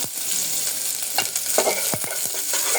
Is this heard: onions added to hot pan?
yes